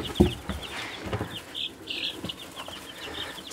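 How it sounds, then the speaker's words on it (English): Young chicks under a heat light on a homestead, heard as scattered high chirps and peeps close by, with a few brief flutters and soft rustles between them. "let's check in on the chicks at first. They are doing awesome. They're growing big and healthy."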